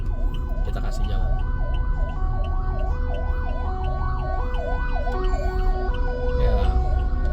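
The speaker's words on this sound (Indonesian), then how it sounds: "ambulan." An ambulance siren wails in a steady rising-and-falling cycle, loud and close, with traffic rumble beneath it on a busy road.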